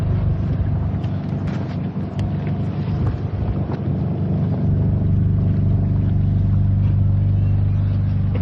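Boat motors running at sea off Crete, a loud steady low-pitched engine drone with wind buffeting the microphone and water rushing, continuous and close.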